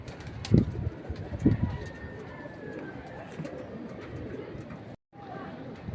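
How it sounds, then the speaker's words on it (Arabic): Pigeons coo in soft bursts, two clearer calls near the start over steady background noise, with people talking faintly nearby. "حمام اهو يا جماعه طبعا."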